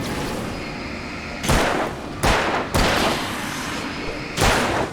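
Four sharp gunshot bursts from a handgun in the video game Alan Wake, spaced irregularly over a low ambient rumble, fairly loud and close with no talk.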